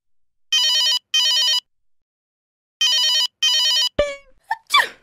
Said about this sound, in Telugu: ఈ సిరి ఏంటి ఇప్పుడు ఫోన్ చేస్తుంది?